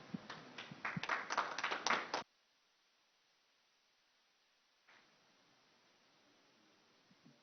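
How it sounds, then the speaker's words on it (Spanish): Audience applause at a Colombian ergonomics lecture, a brief burst of clapping that cuts off abruptly, followed by near silence with faint rustling. "Vamos a darle ese aplauso con más cariño"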